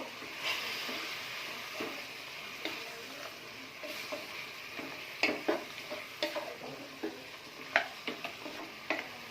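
Chicken with turmeric frying in a pan, a steady low sizzle with sharp clicks and scrapes of stirring that get more frequent toward the end, close by with no talk.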